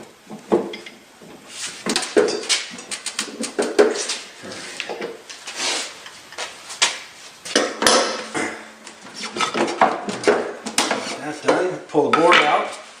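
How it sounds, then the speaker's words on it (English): Crescent wrench tightening a snow blower auger: a close, busy run of metallic clinks, clanks and scraping as the wrench grips and turns against metal parts. "we'll break out the old crescent wrench here"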